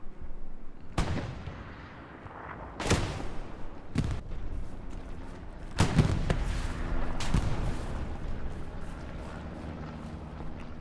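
Rocket fire and explosions on Omaha Beach in the Hell Let Loose video game during a tournament match: several heavy booming impacts spaced a second or two apart over a rumbling battlefield backdrop.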